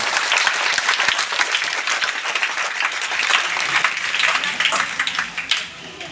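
Audience at a seminar gathering breaks into loud, sustained clapping that rolls on for several seconds before tapering off near the end.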